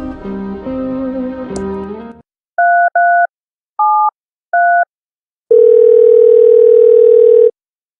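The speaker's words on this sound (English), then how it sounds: "Please leave a message at the beep." Answering machine from the video game Thimbleweed Park: a short electronic tune gives way to three spaced pairs of dial-style tones, then a long, steady, loud beep sounds alone.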